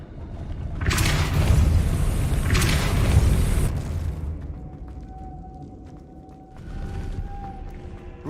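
Depulso spell effect in the video game Hogwarts Legacy, two heavy booming blasts in quick succession followed by a lower rumbling tail and a thin sustained tone, with another surge near the end.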